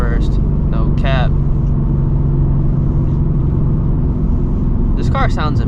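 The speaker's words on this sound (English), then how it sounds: "This car sounds amazing though." A 2024 Ford Mustang GT engine rumbles steadily and loudly throughout at a drag strip, a low continuous drone, with brief bursts of talking near the start and end.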